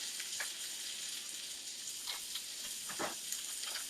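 Onions and vegetables sizzle quietly in a pan, a soft, steady frying hiss with a few brief crackling bursts, with no talking.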